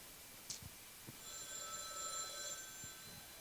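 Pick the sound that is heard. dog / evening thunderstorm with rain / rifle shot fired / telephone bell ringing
telephone bell ringing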